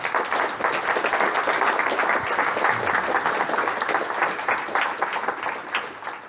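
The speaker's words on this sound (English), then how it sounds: "should we do the applause first, then?" An audience at the DConf '22 programming conference applauds after a talk: sustained, dense clapping from a full room, holding steady for several seconds before easing slightly at the end.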